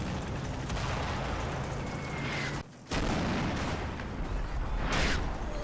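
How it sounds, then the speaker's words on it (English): Danger-close friendly artillery barrage in the wartime strategy game Combat Mission, landing on a right flank: a loud, continuous wash of rumbling blasts and crackling fire, cut by one brief near-silent gap before the pounding resumes. "My FO calls in danger close artillery fire on my right flank"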